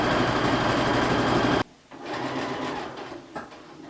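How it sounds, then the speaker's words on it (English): A sewing machine runs a regular straight stitch down a fabric edge for a baby blanket, a fast, steady mechanical whir that stops abruptly, followed by quieter handling sounds and a brief short run. "start with a regular stitch, sewing right down the edge of my fabric"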